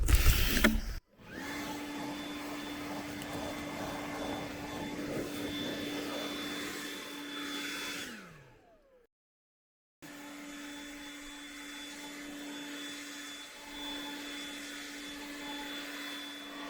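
A leaf blower clearing leaves and pine straw off a roof and out of gutters, a steady loud whining drone that winds down, cuts out, then resumes.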